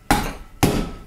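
A Master Vintner Mini Corker drives a cork into a wine bottle with two sharp, close knocks about half a second apart, each ringing briefly before fading.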